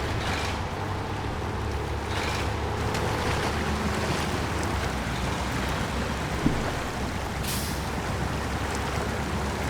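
Truck fording a river in SnowRunner, a steady low engine drone under continuous rushing water and wash, with a few brief louder swells; no talking.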